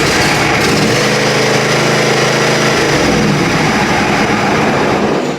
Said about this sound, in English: And then you can crank the engine over.